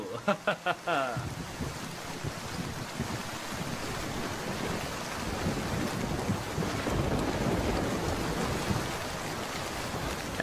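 Steady rain and wind in a Bengali cartoon, a broad continuous hiss with rumbling low swells lasting throughout, loud and unbroken, with a few brief tonal blips at the very start.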